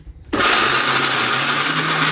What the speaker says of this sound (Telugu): వాటర్ లేకుండా మిక్సీ చేసుకోండి.